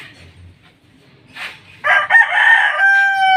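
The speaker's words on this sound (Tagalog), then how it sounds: "Itong nanalo natin na manok." A rooster that won a match, its feathers dirty with flood mud, crows once loudly and close by, the long crow rising after a few soft clucks and rustles.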